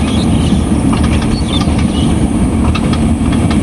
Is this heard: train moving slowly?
yes